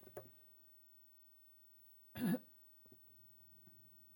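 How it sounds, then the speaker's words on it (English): A single loud cough stands out in a quiet room, with a few faint throat sounds around it. "I'm going to cough again"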